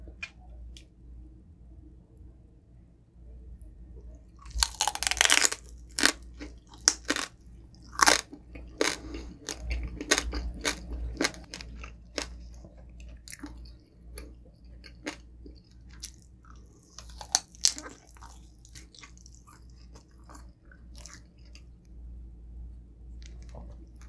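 Crispy, tough skin from a Filipino pork belly roll (lechon) is bitten and chewed close up, with loud irregular crunches and squishy chewing over about twenty seconds and quiet gaps between bites.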